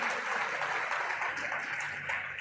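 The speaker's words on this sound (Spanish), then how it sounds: "Fuerte ese aplauso." Congregation applauding during a church service, steady dense clapping from many hands, sustained and even for the whole stretch with no voice over it.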